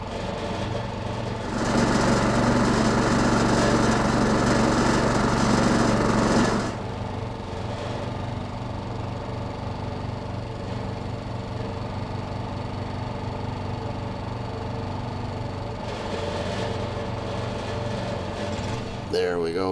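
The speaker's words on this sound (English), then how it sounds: "Now we need to crank up the hydraulics motor so I can retract these log lifters." A log splitter's hydraulics motor drones steadily nearby, with a louder, harsher stretch early on before settling back into an even running hum.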